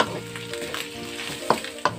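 Carrots stirred together with cooked egg in a hot pan for Surabaya vegetable lumpia filling, a soft steady sizzle with a couple of sharp scraping clicks from the utensil near the end.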